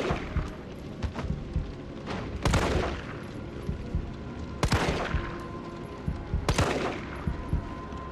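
Repeated gunfire in the survival horror game Resident Evil 3: loud, sharp shots in three bursts with quieter pops and rattling between them, and no talk.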